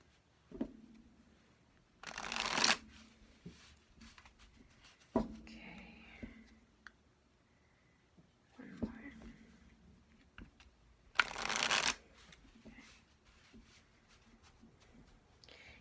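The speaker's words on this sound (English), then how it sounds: "Each deck of cards requires me to shuffle it a different way." Cards are shuffled in two quick riffling bursts, with soft handling clicks and taps in between in a quiet room.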